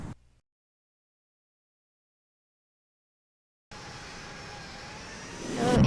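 An airplane in the flight simulator Infinite Flight touches down, its steady engine and airflow roar starting abruptly after a silence and holding evenly, then swelling louder at the end.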